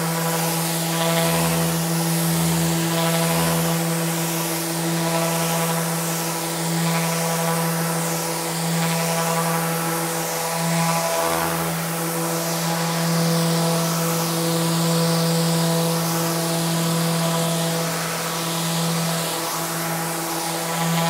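Festool ETS EC 150/5 eccentric sander working solid timber, a steady close electric whine with a constant hum that runs unbroken and loud, with no talking over it.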